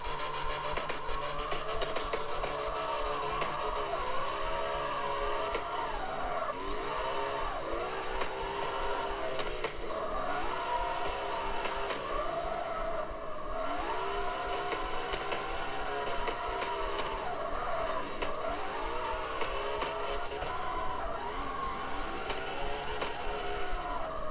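Car engine in the CarX Street drifting game, played with manual transmission: a steady droning motor with repeated rising and falling revs as gears shift and the car slides through turns, continuous and fairly loud throughout.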